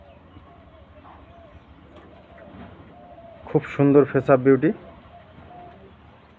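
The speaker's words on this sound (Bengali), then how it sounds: "এগুলো সবই নর পায়রা" Male pigeons, a face-up beauty breed, give a short burst of throaty, pulsing coos lasting about a second, close by, surrounded by a man's speech.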